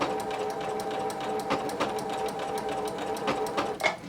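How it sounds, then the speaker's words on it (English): A sewing machine runs a blind hem stitch on dress pants, a steady quiet mechanical whir punctuated by regular needle clicks. "I'm just going to go ahead and use that stitch and begin sewing."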